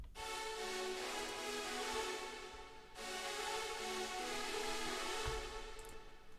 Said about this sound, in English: Maybe I should do it like this so there's only the reverb sound now.